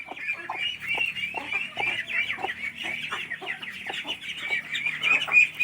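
Newly hatched ducklings and ducks call nonstop, a dense chorus of rapid high peeps and chirps overlapping at close range with no talking.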